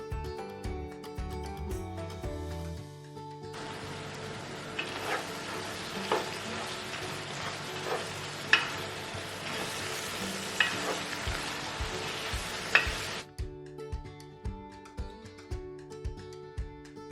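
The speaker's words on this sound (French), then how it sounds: "on va rajouter maintenant nos lardons et on va continuer de faire revenir le tout" Chicken and lardons sautéing in a pan for a pasta gratin, with a steady close sizzle and scattered clinks and scrapes of stirring, sitting over background music.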